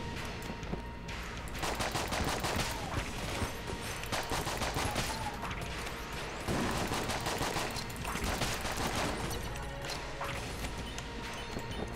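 SAA gun firing ricochet bullets in Enter the Gungeon, a dense, continuous stream of rapid shots and impacts layered over busy game music and effects, steady and loud throughout.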